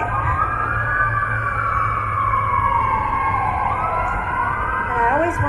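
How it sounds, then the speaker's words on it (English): Emergency vehicle sirens wail and sweep up and down in pitch, loud and continuous over a low street rumble, with a brief yelping burst near the end. "When we work here, the sirens are going several times a day."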